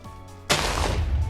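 A Scorch TNT charge explodes in the Minecraft Sea Creeps mod: a short quiet lead-in, then a sudden loud blast that stays as a dense, roaring rumble to the end.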